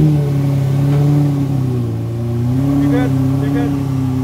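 Car engine droning and revving as the driver works the clutch while maneuvering back and forth, a steady loud mid-pitched hum rising and falling in pitch, with voices talking briefly over it.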